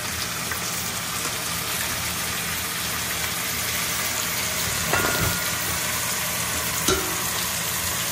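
Chicken wings sizzling in a pan of Thai green curry, a constant dense hiss of frying with a couple of faint stirring knocks.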